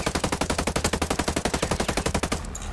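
Rapid automatic gunfire at a drone in the Ghost Recon Breakpoint video game: a steady, fast stream of loud shots runs close and continuous for over two seconds, then cuts off abruptly.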